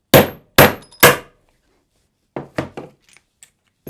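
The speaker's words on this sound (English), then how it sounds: "with a heavy hammer, I just punched it out" A heavy hammer strikes a disc cutter to punch out a copper disc: three loud ringing metal blows, then a few softer, quicker knocks as the tool is handled.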